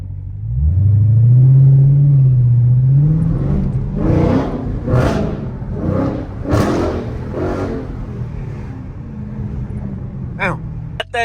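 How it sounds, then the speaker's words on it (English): A loud Dodge Charger Scat Pack engine revs repeatedly with a raw, unmuffled straight-pipe exhaust roar, mufflers and resonators removed, close by, rising and falling in bursts. "Loud exhaust. Straight pipe."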